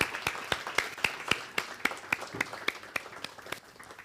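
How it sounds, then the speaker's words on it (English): A conference audience claps at a live event, crisp individual claps landing in a fairly regular rhythm, moderately quiet and fading slightly toward the end. "give ourselves a big applause"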